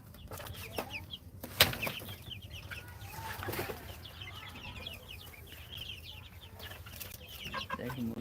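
Chickens clucking softly in a farmyard, with scattered calls and a sharp squawk, plus occasional wing flaps and background rustling.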